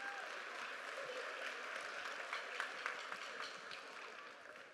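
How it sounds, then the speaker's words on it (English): A school band concert audience at a middle school applauds steadily, a dense, fairly distant wash of many hands clapping that holds at an even level throughout. "give yourselves a round of applause"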